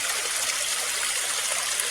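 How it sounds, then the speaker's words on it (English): A small waterfall in Piedmont Park, Atlanta, rushes and splashes close by as a steady, full hiss with no pauses and no voices. "this waterfall wasn't here when I used to come here back in the day"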